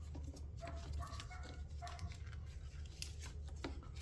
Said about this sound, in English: the neighbors' little ankle biting dogs that just sit over there and yap all day